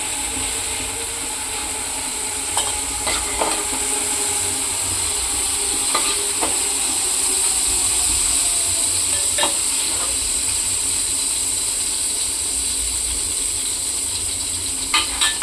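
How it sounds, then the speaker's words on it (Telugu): Fish frying in a pan at home sizzles steadily and loudly throughout, with occasional light clicks and scrapes of stirring and no voices. "ఇప్పుడు ఇందులోనే ఫ్రై చేసుకుందాం."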